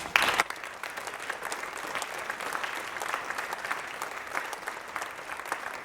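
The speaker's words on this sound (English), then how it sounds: "give him a warm applause." Sustained applause from a conference audience at an IT service management keynote in Norway, many hands clapping evenly at moderate volume from start to finish, with a slightly sharper burst at the very beginning.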